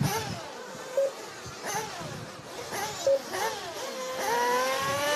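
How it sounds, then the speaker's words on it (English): Nitro RC buggy engines warm up in a pit lane, small high-pitched motors buzzing and rising in repeated revs. They sound close and fairly loud, and a voice talks over them. "You can hear the guys down there warming up their engines in pit lane, getting ready."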